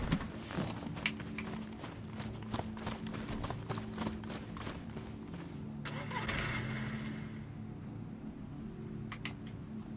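A car engine in the video game DayZ runs steadily for the whole stretch: a low rumbling drone with fast, rhythmic clattering ticks layered on top.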